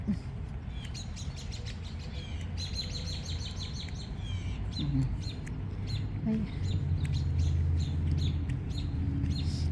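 Small birds chirp and tweet in repeated quick bursts in a park on a morning walk, fairly clear above a low background hum, while a person speaks briefly.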